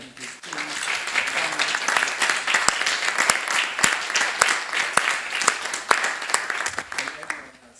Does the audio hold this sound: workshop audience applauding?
yes